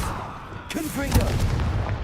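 A Confringo fire spell blast in Hogwarts Legacy, a single booming burst with a crackling tail, close and fairly loud, as a voice speaks briefly over it.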